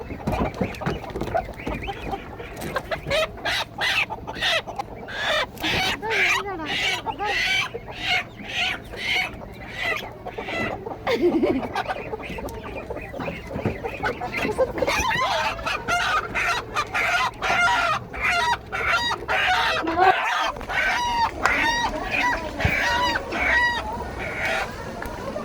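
Two large domestic roosters kept in a backyard flock cluck repeatedly and crow loudly and close by, in a continuous stream of calls with no talking.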